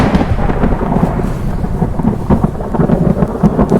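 Heavy rain pours steadily during a thunderstorm in Moradabad, India, with deep rolling thunder rumbling loudly and continuously throughout.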